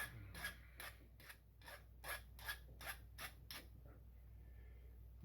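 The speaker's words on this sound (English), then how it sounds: "Okay, so I just keep filing at it." A hand file rasps against a Leatherman Wave+ multitool in about ten quick, even strokes close by, then stops, leaving a quiet room.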